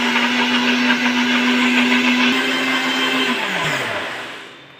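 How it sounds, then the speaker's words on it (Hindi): An electric blender whirs loudly and steadily while blending a mango milkshake, then winds down with a falling pitch as it switches off. "तो चलिए हम इसे ब्लेंड कर लेते हैं"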